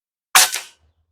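An AGI Falcon air rifle fires a single sharp shot, a close, crisp crack that decays quickly into a faint low thud.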